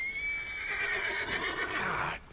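A horse neighs in the video game Red Dead Redemption 2, one long, close, clear whinny that wavers and fades, with faint hoof sounds beneath.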